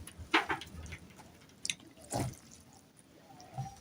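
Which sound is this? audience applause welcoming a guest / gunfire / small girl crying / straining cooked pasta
straining cooked pasta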